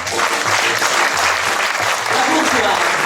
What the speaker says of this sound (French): Et vous pouvez applaudir Lila.